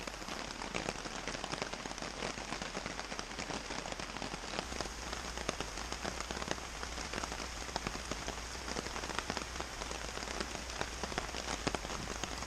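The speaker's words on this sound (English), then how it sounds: "throughout the entire night, it poured rain nearly non-stop" Heavy rain pours non-stop over a campsite during a storm along the Mississippi River, a dense, loud, continuous hiss of drops hitting surfaces with no other sounds.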